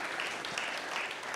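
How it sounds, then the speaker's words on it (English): Brief, soft wash of applause for a panel at the Kalasha International Film and TV Market, Festival and Awards, heard distant and steady. "A round of applause for Noah and the panel."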